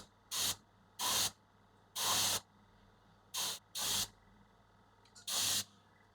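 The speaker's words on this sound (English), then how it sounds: "by the time I can see that I'm spraying, I will have oversprayed. It will have too much pearlescence." Aerosol spray paint laying down a pearlescent coat hisses in six short, sharp bursts separated by quiet pauses, close and fairly loud against a faint background hum.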